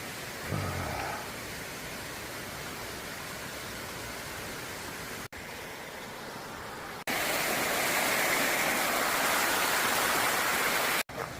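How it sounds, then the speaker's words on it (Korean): A mountain valley stream rushes with a steady broadband hiss, softer at first and then louder and nearer after a cut, continuing without speech along a hiking trail. "계곡 물소리 들으며 계속 올라갑니다."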